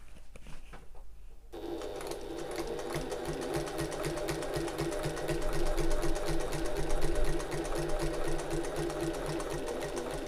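A sewing machine runs steadily close by, stitching along the bottom edge of an open-top tote bag after a pivot, its motor hum and needle clatter continuous after a brief quiet start.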